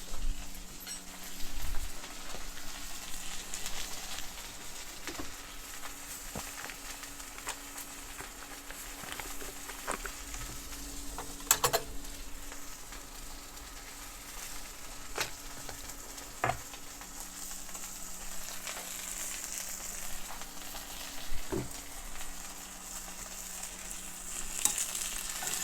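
Pieces of steak fry in a pan with a steady low sizzle and crackle, with occasional sharper pops and spatters over 25 seconds and no talking.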